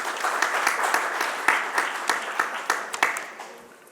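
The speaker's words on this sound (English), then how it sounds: "Let's welcome him with a round of applause, ladies and gentlemen" Conference audience applause at an inauguration, dense sustained clapping from a crowd that tapers off toward the end.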